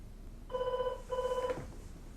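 A telephone rings twice in classic double-burst bell pattern, clear and fairly close, each ring about half a second, followed by a short click or handset pickup; no talking.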